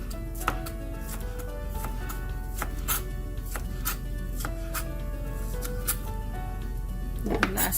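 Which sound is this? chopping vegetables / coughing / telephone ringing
chopping vegetables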